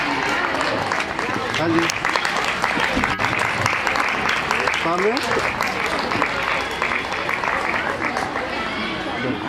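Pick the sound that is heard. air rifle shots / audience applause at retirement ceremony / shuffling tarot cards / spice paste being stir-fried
audience applause at retirement ceremony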